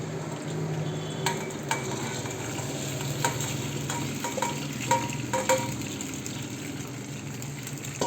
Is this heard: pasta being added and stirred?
yes